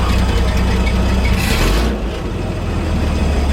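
A 1961 GMC 5000 truck's 351 V6, freshly converted to a Holley carburetor, runs steadily and loud close by with a deep low rumble, a brief rising rev near the middle, then settles back to a smooth idle.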